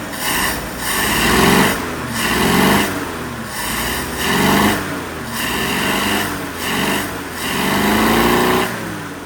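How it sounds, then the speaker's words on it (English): The six-cylinder engine of a rusty 1961 Chevrolet Impala idles and runs steadily up close, with a rhythmic, slightly uneven pulsing chug and rising, falling loudness throughout. "We're looking at his 61 Chevrolet Impala. 6-cylinder. It runs."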